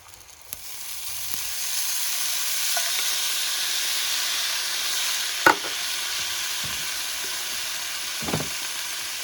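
Rice and green beans fry in a pan at an Ohio campsite with a steady close sizzle and hiss, broken by a few brief clinks and stirring knocks.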